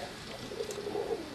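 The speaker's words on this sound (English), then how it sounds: "There's the pigeons there." Pigeons in a pen, a few soft low coos close by over a quiet background.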